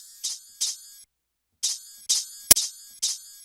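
Short electro pluck synth notes programmed in FL Studio, bright plucked tones in a sparse rhythmic pattern with a gap partway through and a sharp click near the end, heard alone and fairly quiet.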